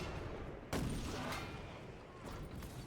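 A ship's long guns boom in a naval battle in the video game Skull and Bones, with one loud broadband blast near the start followed by a rumbling, noisy tail and a softer second report later.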